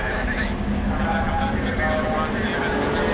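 Racing saloon cars, including a Jaguar, streaming past the pits, a dense continuous engine roar under a commentator's voice.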